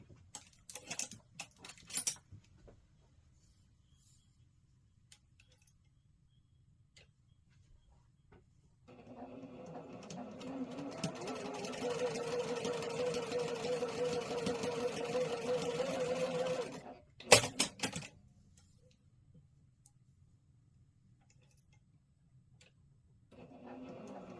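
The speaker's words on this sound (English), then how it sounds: "I'm going to sew on both sides of that line a scant 1/4 inch really quickly" A sewing machine stitching quilt block seams runs in one continuous burst of several seconds, whirring steadily, with quiet handling clicks before and after.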